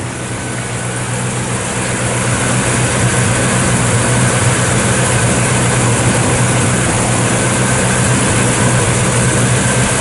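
A 1962 Chevrolet Nova II engine fires up and settles into a steady, loud, low idle that holds evenly throughout with a constant rumbling drone.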